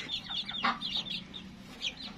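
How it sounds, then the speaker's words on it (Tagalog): Several small bantam chickens cluck and chatter in quick bursts, fairly close, against a quiet background. "Ayan yung mga bantam natin"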